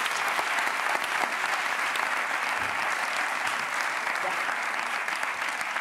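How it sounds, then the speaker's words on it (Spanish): A studio audience on a Spanish late-night talk show claps steadily and fairly loudly throughout, a dense continuous applause with no voices standing out. "así que un aplauso para Perla."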